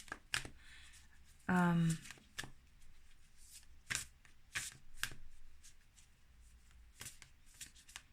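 Moonology oracle cards are shuffled by hand in a quick, crisp riffle burst, followed by lighter taps and shuffles, close and clear against a quiet room with a voice now and then.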